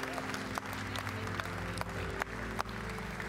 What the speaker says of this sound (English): Would you give him a big hand clap of praise in this house?